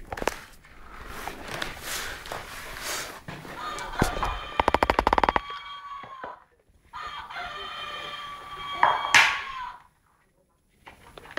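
A rooster crow sounds from a toy animal puzzle, a short electronic cock-a-doodle-doo that plays a couple of times. A child and an adult talk nearby, with faint clicks and handling noise around it.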